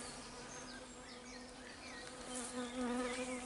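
Honey bees buzz densely around a hive, a steady close hum with individual bees droning past and swelling louder toward the end.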